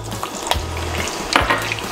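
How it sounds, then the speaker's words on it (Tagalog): Potatoes fry in hot oil with a dense, close sizzle broken by a few utensil stirs and light knocks against the pan, with no voices. "ipa-fry muna natin ang ating potatoes and carrots"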